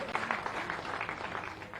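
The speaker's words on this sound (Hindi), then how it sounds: "तालियां बजा के स्वागत।" A crowd at a political gathering applauds to welcome a politician: steady, dense clapping throughout, moderately loud and without a clear beat.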